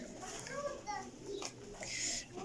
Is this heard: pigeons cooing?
yes